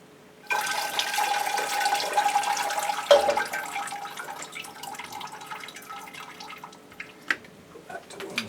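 Water pours from a can into an orchid pot, a steady trickling stream that starts abruptly, continues for several seconds and thins into scattered drips, fairly close and quiet.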